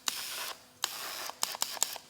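Light bursts of powder coating sprayed onto inner metal car parts during an Evo 8 rebuild: several short, hissing puffs of varying length, with quiet gaps between them.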